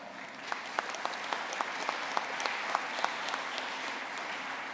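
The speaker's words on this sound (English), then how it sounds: "So give yourselves a round of applause." Commencement audience applause, steady moderate clapping from a large crowd with sharper individual claps standing out.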